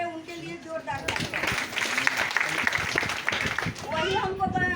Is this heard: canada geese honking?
no